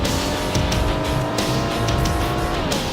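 Racing car engine roar with squealing tires from the Need for Speed II video game on PS1, a loud, steady engine drone over the whole stretch with brief skids cutting in.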